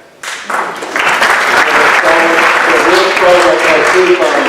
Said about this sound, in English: Hold your applause for the end, please.